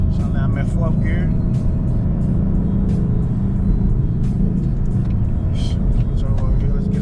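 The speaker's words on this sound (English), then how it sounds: "So over here, let's get it up to 50 miles an hour." A 2019 Ford Mustang GT with a 10-speed automatic in fourth gear, pulling up toward 50 mph, with a loud, steady engine drone and road rumble from inside the cabin beneath continuous talking.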